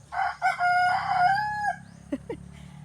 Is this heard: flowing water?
no